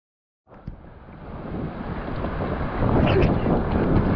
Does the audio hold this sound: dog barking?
no